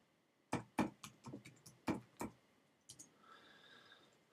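Keys clack on a computer keyboard in a quick irregular burst of distinct, close taps, then a few more after a short pause, quiet and without speech.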